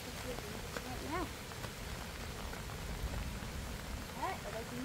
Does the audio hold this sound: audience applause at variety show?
no